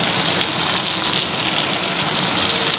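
Oil left over from frying hilsa fish poured into a hot pan, giving a dense, loud, steady hiss of sizzling close by, unbroken for the whole stretch.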